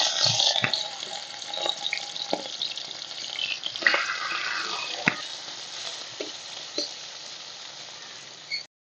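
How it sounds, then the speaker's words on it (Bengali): Small shrimp, salted and coated with turmeric, dropped into hot mustard oil in a wok, hissing with a steady bright sizzle and occasional spits and pops, close and fairly soft. "তেল গরম হয়ে গেছে, দিয়ে দিচ্ছি মাছগুলো।"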